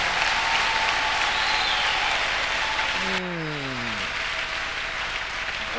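A church congregation claps and cheers during a worship service, a dense, steady wash of applause for about three seconds before it cuts off abruptly and a falling tone follows.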